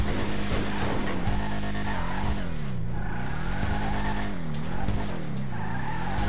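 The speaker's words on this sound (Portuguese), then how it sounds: "Agora eu tô acelerando." A car in a GTA roleplay game revs and accelerates continuously, its engine note rising and falling in repeated sweeps with tire squeal, loud and steady throughout without speech.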